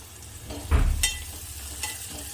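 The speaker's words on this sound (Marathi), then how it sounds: "आणि असा बारीक चिरलेला कांदा छोटावाला एक पूर्ण कांदा घ्यायचा आहे याला छान असं परतून घ्यायचं आहे" Finely chopped onion frying over medium heat in a pan, a continuous near sizzle broken by a brief louder scrape of stirring, with no talk.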